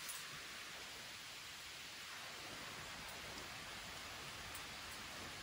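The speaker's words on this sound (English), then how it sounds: "It's starting to rain right now." Steady, soft hiss of rain falling after dark in the Siamese Ponds Wilderness, an even wash of noise with no voices.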